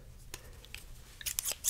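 Scissors snip several times in close ASMR-style detail, with short sharp cuts at irregular intervals that build into a quick flurry near the end over a quiet background.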